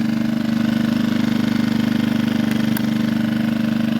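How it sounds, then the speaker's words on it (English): A small 2000-watt portable generator idles steadily at an off-grid cabin, a close, loud, even engine drone with a fast regular pulse and no speech. "Got the little 2000 watt generator running."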